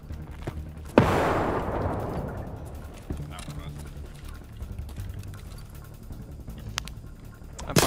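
A grenade blast in the video game Escape from Tarkov arrives as one sudden loud bang, then a long rumbling decay, followed by scattered faint clicks and footsteps.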